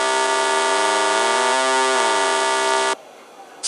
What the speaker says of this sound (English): Saw plus square plays a saw wave and a square wave at a different pitch.